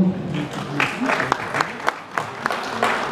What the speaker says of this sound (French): Merci en tout cas de les applaudir